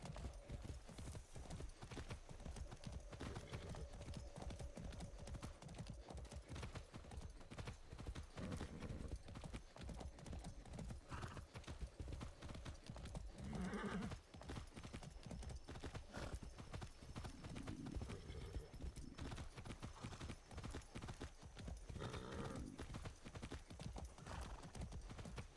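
Horse hooves clip-clop steadily in the video game Far Cry 6, a close, continuous rhythmic trot with a brief whinny, heard alone at moderate level.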